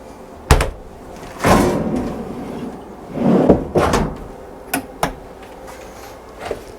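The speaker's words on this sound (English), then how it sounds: "It's got these little catches on to keep everything shut at sea." Several sharp clicks and knocks of cupboard catches, with doors swung open and shut, close by and unhurried, in an otherwise quiet room aboard a Sunseeker Predator 74 XPS motor yacht.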